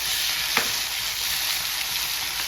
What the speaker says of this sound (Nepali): अहिले यो अदुवा लसुनको पेस्ट पनि हालिदिउँ, एकछिन भुट्ने